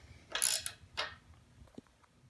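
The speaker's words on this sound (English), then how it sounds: "I'm just going to go ahead and tighten all these down" A ratchet tightens 15 mm bolts on an Addictive Desert Designs front bumper fitted to a Jeep JL. It gives two short, close bursts of quick clicking with quiet between them.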